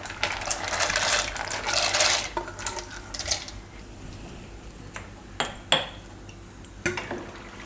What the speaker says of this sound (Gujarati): આમાં આપણે મીઠું નાખી દેવું તો મીઠું થોડુંક વધારે નાખવાનું એટલે પાસ્તામાં એકદમ ચડી જાય એમ તો એમાં આપણે હવે પાસ્તા નાખી દેશું